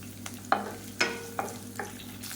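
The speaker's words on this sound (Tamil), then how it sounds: "இப்போ பாருங்கள் வெங்காயம் நல்லா வதங்கிடுச்சு" Onion and a handful of small garlic cloves sauté in a pan for a coriander leaf thokku, with four or five distinct spatula scrapes over a low sizzle, close and clear, without speech.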